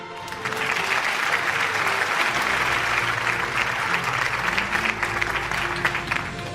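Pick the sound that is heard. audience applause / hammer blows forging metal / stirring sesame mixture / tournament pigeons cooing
audience applause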